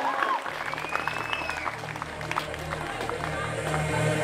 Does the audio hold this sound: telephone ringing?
no